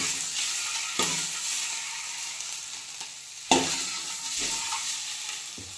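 An egg fries in oil in a pan while cooking an egg and spinach pulao, giving a steady bright sizzle broken by a few sharp utensil clinks and scrapes against the pan.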